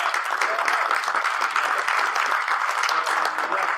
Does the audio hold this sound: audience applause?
yes